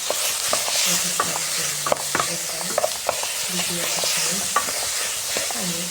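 Chopped onions sautéing in a pan while being stirred for a fish stuffing, giving a steady sizzle with repeated scraping and clacking of a utensil against the pan, close up and with no talk.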